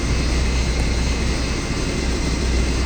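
Center AI-25 turbofan of a Yak-40 in a flight simulator game spools up during engine start, a dense, loud, steady roar and whine filling the cabin with no speech.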